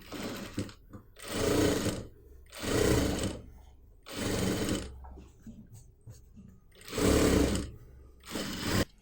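Sewing machine stitching the neck facing of a kurti runs in five loud, close bursts of steady whirring of about a second each, with short pauses between them for repositioning the fabric.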